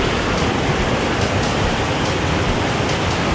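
Rushing river water flowing alongside a hiking trail in Andalusia, Spain, a steady dense broadband roar close by, constant with no pauses and no voices.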